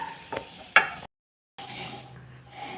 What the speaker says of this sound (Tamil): இப்போ முந்திரி பருப்பை வறுத்துக்கலாம். பொன்னிறமாக ஆயிடுச்சு.